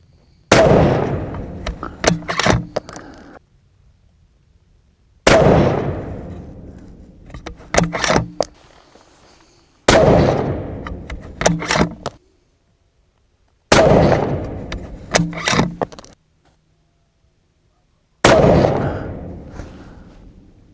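An inexpensive custom-built rifle fired at a range, five loud, sharp reports spaced several seconds apart, each trailing off in a rattling echo before quiet returns.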